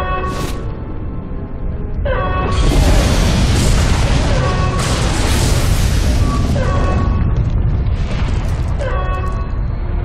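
Loud, close explosions in the Star Wars: The Old Republic video game, with heavy booming blasts and a sustained rumbling roar, plus tonal alarm-like sounds between the bursts.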